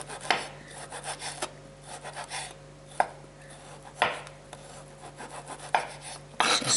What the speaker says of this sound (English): Slicing the ginger, just tiny little pieces across the fibers